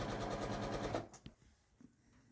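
A sewing machine stitching a seam runs in a fast steady rhythmic whir for about a second, then stops, followed by a few faint clicks and handling noises, close and alone.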